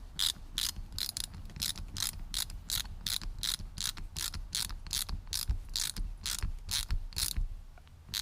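A socket ratchet fitted with adapters tightens an XDP fuel filter delete bowl on a 2006 Duramax LBZ, giving a steady run of crisp, evenly spaced clicks, about two per second, close up over a low background hum.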